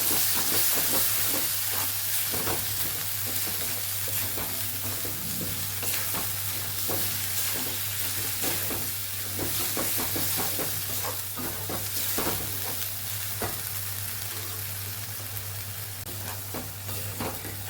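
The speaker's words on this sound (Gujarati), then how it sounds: "બધું સરસ મિક્સ કરીને સાતડી લેશું" Spiced Kathiyawadi green onion curry sautéed in a pan, a loud continuous sizzle with a steady low hum and rapid repeated scraping strokes throughout, close and without talk.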